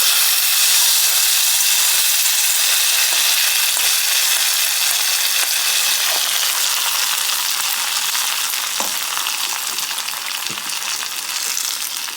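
Steady, loud sizzling of hot tempering oil poured into mango curry, a continuous bright hiss lasting throughout with a few faint clinks near the end.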